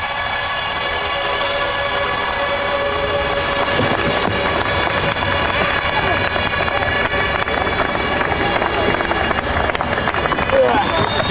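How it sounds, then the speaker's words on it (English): A large racetrack crowd roars in a continuous dense wash of cheering, loud and sustained for over ten seconds, with engine-like tonal hum and scattered bursts mixed in. "Listen to this crowd."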